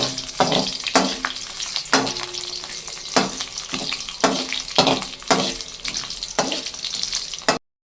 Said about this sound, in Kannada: ಅದರ ಜೊತೆಗೆ 4ರಿಂದ 5 ಜಜ್ಜಿರುವಂತಹ ಬೆಳ್ಳುಳ್ಳಿನ ಹಾಕಿ ಫ್ರೈ ಮಾಡ್ತಾಯಿದ್ದೀನಿ